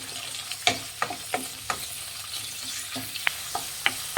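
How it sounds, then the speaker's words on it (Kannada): Onions frying in a pan with green chillies for tomato masala rice. A steady sizzle runs underneath while a spatula scrapes and stirs in irregular, close strokes. No one speaks. "ಚೆನ್ನಾಗಿ ಫ್ರೈ ಮಾಡಬೇಕು ಈರುಳ್ಳಿನ"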